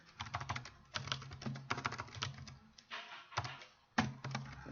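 Fingers type a headline on a computer keyboard in quick bursts of close, crisp key clicks, with short pauses between the clusters.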